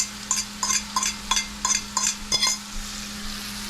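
Noodles being tossed in a pan with oyster sauce and butter: a rhythmic series of about seven quick scraping and sizzling bursts, evenly spaced, over a low hum, then settling into quiet.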